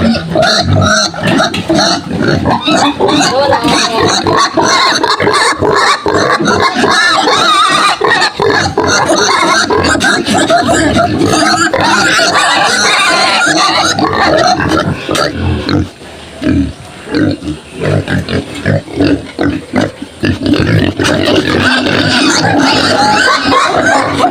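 A pig with a hernia grunting and oinking loudly and almost continuously at close range, rough, dense squeals and snorts with brief gaps toward the end.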